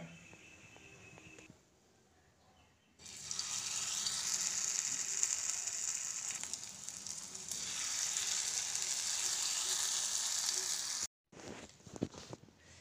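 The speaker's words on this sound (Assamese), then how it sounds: "এয়া তেল গৰম হৈছে" Oil heating in a pan for frying pitha, a steady close hiss of sizzling that starts after a quiet stretch, holds for about eight seconds, then cuts off briefly before scattered clatter.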